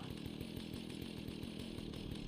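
A chainsaw revving steadily in the video game Fallout, its loud, continuous buzzing engine drone with a rapid rhythmic chatter running unbroken throughout, close and alone without voices.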